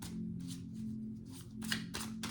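A deck of tarot cards is shuffled for a love reading, making soft repeated riffling bursts in an uneven rhythm, close and quiet over a steady low hum, with no voices.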